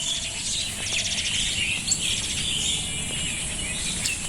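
Birds chirp and twitter in quick repeated bursts over a steady outdoor hiss in a fruit orchard during the rainy season, with insects buzzing faintly alongside.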